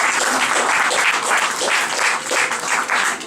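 An audience applauds a museum curator at an anniversary gathering of an international salon, a dense, steady wash of many hands clapping together for several seconds, fairly loud and close, with no talk over it.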